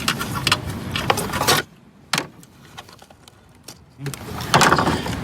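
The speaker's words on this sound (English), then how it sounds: "Now we're going to fasten the nut down." Fastening a nut by hand on a 2010-2015 Chevrolet Cruze: close mechanical clicks and a ratcheting, metallic rattle come in two bursts, with a quieter gap of faint taps between them.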